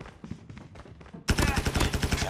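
Rapid video game gunfire from a gun with a huge magazine bursts in loud and dense after a quieter opening stretch of softer rhythmic shots, then keeps hammering steadily to the end.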